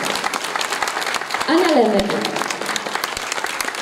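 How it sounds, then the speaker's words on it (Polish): Audience applause at a Christmas carol concert in Brzostek, steady clapping throughout with a presenter speaking over it as performers are named. "Wielkie, wielkie brawa"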